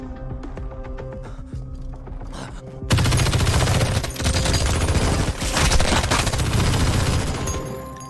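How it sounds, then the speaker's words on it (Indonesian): Gunfire in an Indian film fight scene, a dense, loud barrage of rapid shots that erupts after a quieter stretch of music and action and keeps firing to the end. "Lalu Sandep dibredel dengan senjata hingga tak bernyawa."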